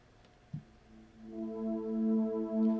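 Warm synth pad chords on an auxiliary keyboard swell in softly after a single light tap, sustaining smooth, steady tones that rise gently in level.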